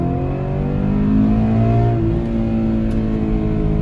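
A 2013 Subaru BRZ accelerates hard in second gear, its engine note climbing steadily and loudly from inside the cabin without a break.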